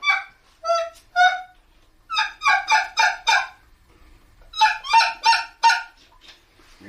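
Turkey call blown by hand, giving out a speckled goose-like honking: three short honks, then two clusters of four to five rapid, loud, clucking yelps with pauses between, close and isolated.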